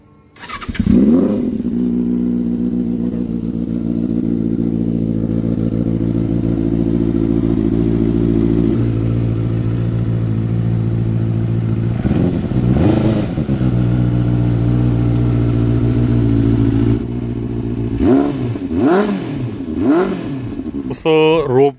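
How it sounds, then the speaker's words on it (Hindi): A superbike engine idles loudly and steadily, then revs in a few sharp bursts near the end, close by. "ये ली है सुपर बाइक"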